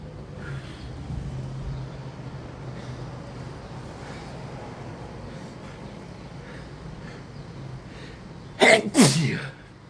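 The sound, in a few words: sneeze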